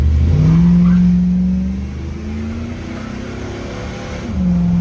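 A van truck on the freeway accelerates under a loud, close engine drone that rises in pitch, drops as a gear shifts near the two-second mark, then holds a lower steady tone before climbing again near the end.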